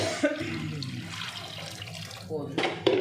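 Water poured from a rinsed blender jar into a pot of rasam, a brief splashing pour under a steady faint hiss, with soft kitchen clatter near the end.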